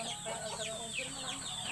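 Several chickens cluck and chatter close by, a busy overlapping flurry of short clucks and squawks.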